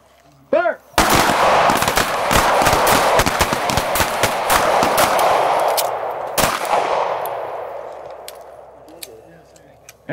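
Rapid pistol gunshots ring out during a close retention shooting drill at a Nashville training event, a dense string of sharp cracks over several seconds, loud and close, with a brief pause before the volley and voices calling commands.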